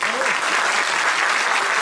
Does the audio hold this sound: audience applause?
yes